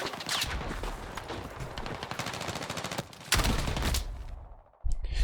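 Shotgun fire in the video game Battlefield 6: a dense run of loud, sharp blasts for about three seconds, then a heavier burst, a short lull, and one final shot.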